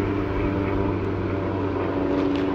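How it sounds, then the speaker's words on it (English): A propeller airplane passes overhead outdoors, a steady low droning rumble with tonal engine hum holding evenly loud throughout, no speech over it. "And of course now there's a plane going by"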